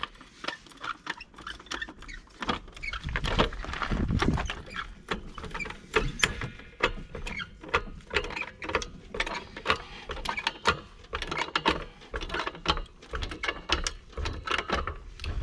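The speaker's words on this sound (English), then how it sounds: "you're gonna have to jack the car up once again" A car jack raises a Peugeot 407, with repeated close mechanical clicks and ratcheting strokes in an uneven rhythm and occasional heavier clunks.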